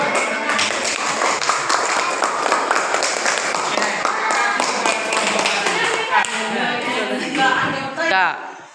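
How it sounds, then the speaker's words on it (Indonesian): A university class claps hands in a dense, sustained burst that fills the room for several seconds, with voices mixed in beneath the clapping before it tapers off. "Tepuk tangan dulu."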